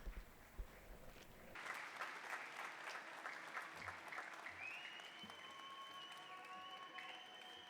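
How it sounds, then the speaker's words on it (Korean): A roomful of people claps steadily to welcome a visiting Spanish priest at a parish gathering, the applause fairly distant and even, with faint tonal sounds creeping in toward the end. "박수로 환영하겠습니다."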